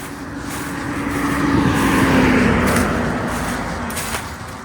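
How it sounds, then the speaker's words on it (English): Cars passing on a busy road, a swelling roar that rises to a peak near the middle as vehicles go by close, then fades, with lighter whooshes of further traffic before and after. "Told you there's a lot of traffic."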